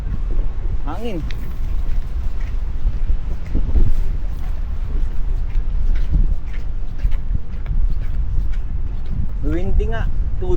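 Strong street wind on University Avenue in Toronto's Chinatown rumbles continuously close to the microphone, sitting under people chatting throughout.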